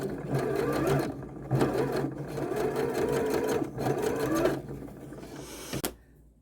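A sewing machine runs in steady rapid bursts while stitching fabric seams for a dress overlay, whirring close and loud with brief pauses between runs before stopping.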